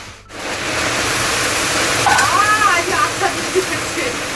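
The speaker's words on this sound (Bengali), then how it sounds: "ভাতটা হয়ে গেছে দাঁড়াও মারটা ঝরিয়ে নিই আগে" Starchy water is poured off a pot of freshly cooked rice, making a steady, close gushing hiss that runs almost the whole time, with a voice speaking briefly over it.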